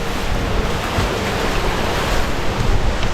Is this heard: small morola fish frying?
no